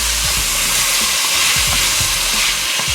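Sausage and vegetables for minestrone soup sizzle and hiss steadily in a pot as they are stirred, a continuous loud frying hiss with soft knocks of the stirring.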